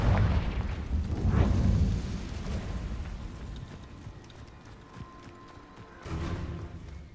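A Confringo blasting curse from Hogwarts Legacy goes off as a deep rumbling explosion, loud at first and then decaying, with a second heavy burst near the end; no talking.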